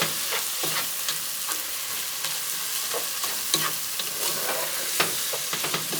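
Chicken à la king, seasoned with salt and pepper, sizzles steadily in a pan while a spoon stirs it, with scattered scraping clicks over a constant frying hiss, close and moderately loud.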